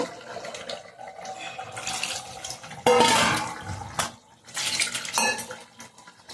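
Liquid poured into a pot of brinjal, potato and beef curry, with clattering of a metal pot and utensil scraping, a few bursts of splashing and stirring close by, no talk.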